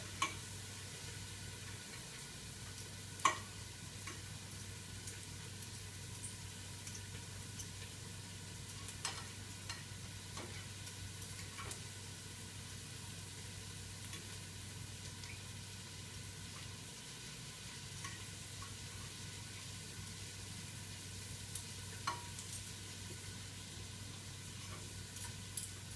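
Onions fry in a pan with a steady, faint sizzle and no talking, broken only by a few soft ticks and clicks from the cookware.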